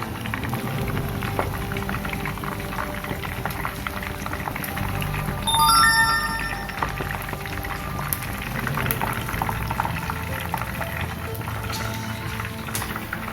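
Chicken frying in hot oil, a dense continuous crackling bubble like rain on a surface, steady and close throughout, with a brief louder sputter midway.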